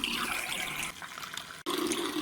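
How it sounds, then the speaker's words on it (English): Warm water runs steadily from a tap into a bowl, a continuous close gushing hiss that briefly cuts out and then resumes. "you run a lovely sudsy bowl of warm water"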